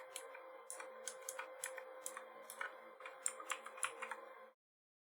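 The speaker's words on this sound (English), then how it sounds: "my keyboard is very loud" Fast bursts of clicky keystrokes on a loud computer keyboard, close and crisp over a faint steady hum, in uneven clusters before cutting to silence near the end.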